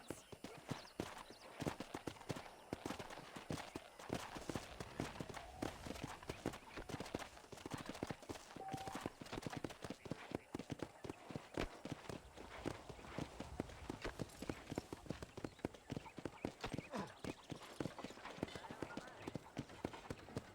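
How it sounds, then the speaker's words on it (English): A horse's hooves trot in a steady, rapid clip-clop throughout in Red Dead Redemption, with a voice talking over much of it. "Okay, let's see if you can still ride a horse."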